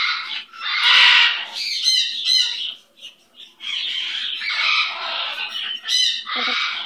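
A pet bird squawks loudly and close by in a run of harsh, raspy calls with brief pauses between bursts, and no one talks over it.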